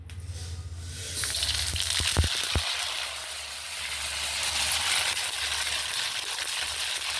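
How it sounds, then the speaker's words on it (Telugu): Mustard seeds splutter in hot oil, with a burst of sharp pops and crackles over a steady background sizzle, close and fairly loud, with no speech. "ఆవాలు వేసాము. ఆయిల్ బాగా వేడైంది కదా."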